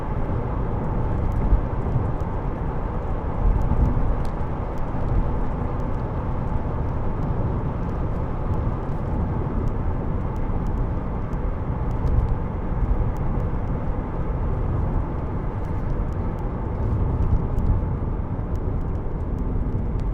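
Steady road and engine drone inside a 2003 Alfa Romeo GTV 2.0 Twin Spark 16v cruising at 70 mph, a continuous low rumble that holds even and unbroken throughout with no voices.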